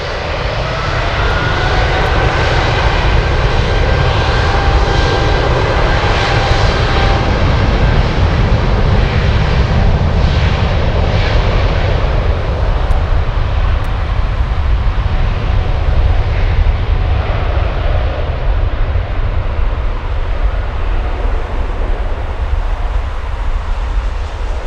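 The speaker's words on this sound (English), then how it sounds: "Big 747 on the roll." A Lufthansa Boeing 747-8 jet rolls for takeoff at Frankfurt airport, a loud, sustained engine roar heard from a distance that holds steady and slowly shifts in tone as it passes, with no talk over it.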